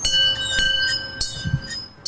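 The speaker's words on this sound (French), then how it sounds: "nous sonnons la cloche." A bell rung at the small gate of a house above a harbour gives a bright, sustained metallic ring with clinking strikes over a couple of seconds, fairly close and alone.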